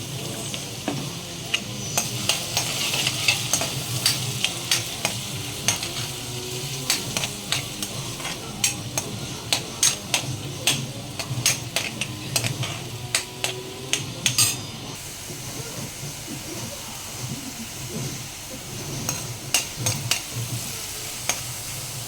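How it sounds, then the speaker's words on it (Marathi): Finely chopped onion fries in a pan with a steady close sizzle, while a spoon stirs and clacks against the metal in frequent sharp knocks, all without any talking. "कांद्याला छान आपण पोळून घ्यायचं आहे, थोडासा गोल्डन ब्राऊन होईपर्यंत"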